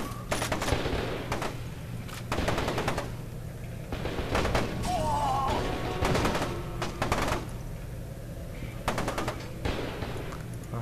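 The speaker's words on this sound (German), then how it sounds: "Und da hinten ist Schießerei." Gunfire in the shooter game F.E.A.R. 2 rings out in rapid automatic bursts, some distant, others closer and louder, spread in repeated clusters while someone talks in German over it.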